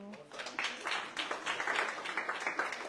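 An audience at a national school chess tournament gives a round of applause, a dense patter of many hands clapping steadily for a few seconds.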